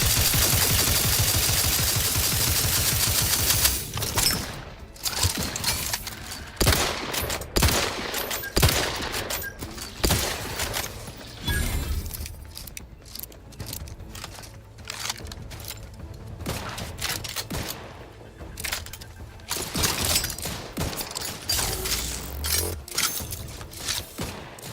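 Enemy gunfire in The Outer Worlds 2 cracks out in bursts of rapid, sharp shots, with a dense fusillade at the start followed by scattered volleys and single reports throughout, fairly loud and without any talking.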